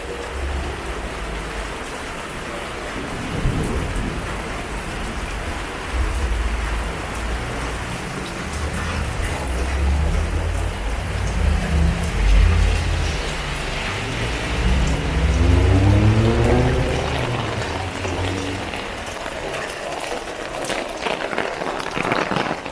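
Heavy downpour in a park, a dense continuous roar of rain drumming on surfaces with scattered splashes and some low rumbling, loud and close throughout; no clear speech.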